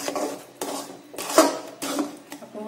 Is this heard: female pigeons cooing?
no